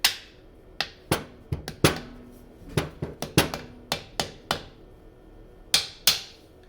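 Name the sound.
hammering a socket onto a car starter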